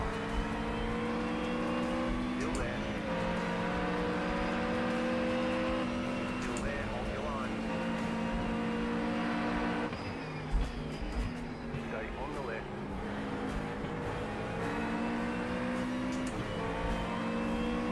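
An opponent's race car engine drones steadily nearby in the iRacing sim, a sustained whine that rises and falls with shifts, partly under someone talking.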